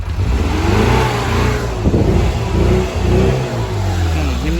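Used classic car with a manual gearbox, an older engine catching on the first try and revving, a steady mid-pitched drone with throttle swells, close by with no talking.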